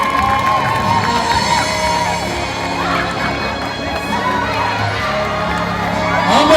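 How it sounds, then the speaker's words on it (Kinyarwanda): Applause and cheering from a crowd at the Rwanda Movie Awards ceremony as Israel Dusabimana receives a prize, a dense, steady roar of clapping and shouting voices that swells again toward the end. "Amashyi menshi cyane kuri Israel Dusabimana."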